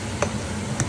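Chicken pochero being stirred in a cooking pot, two soft scraping strokes against a steady low simmer, close and fairly quiet with no voices.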